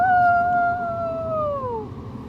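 A voice imitates a werewolf howl, one long sustained wail that slowly glides downward and fades, close up over faint background noise.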